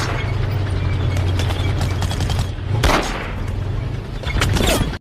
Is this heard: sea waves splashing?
no